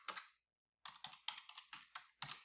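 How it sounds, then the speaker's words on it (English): Computer keyboard typing, quiet and close: a short burst of clicks, a pause, then a steady run of crisp keystrokes in small clusters with no talking. "You can start typing your own questions in here."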